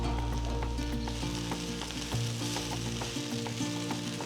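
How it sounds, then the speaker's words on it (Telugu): Moringa leaves, coriander and curry leaves are tossed together in a hot pan, giving a loud, close, crackling sizzle with rapid stirring scrapes and a low steady hum in the background. "వేసి మొత్తం బాగా కలిపేసేసి ఆకంత బాగా మగ్గనివ్వాలండి"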